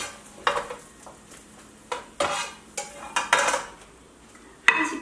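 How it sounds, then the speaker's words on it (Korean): Carrots being stir-fried in a pan, with intermittent clattering scrapes of a utensil against the pan over a soft background sizzle, close and fairly quiet. "당근을 볶아주세요."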